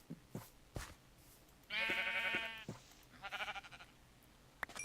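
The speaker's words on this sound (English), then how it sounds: "Gonna kill this sheep" A sheep in the Minecraft Better Than Wolves mod gives two clear, wavering bleats, set among soft clicks and footstep taps.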